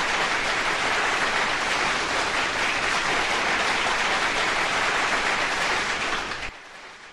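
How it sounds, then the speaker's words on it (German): Dense, hissing applause heard over a live stream, a continuous rain-like wash of clapping that holds steady, then drops off abruptly near the end. "dann machen wir schnell einen Applaus"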